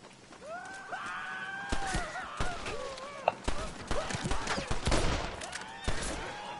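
Scattered gunshots in a Red Dead Redemption shootout, sharp cracks spaced irregularly over a busy game soundscape with whooshing tones and a loud pop near the middle.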